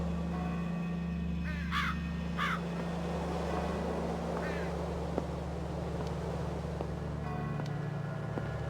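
Large black crows give several harsh caws in the adventure video game The Lost Crown, with two clear calls and then a fainter one, over a steady low engine-like drone and ambient rumble.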